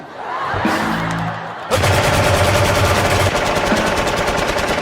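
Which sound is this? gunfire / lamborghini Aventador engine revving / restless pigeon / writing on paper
gunfire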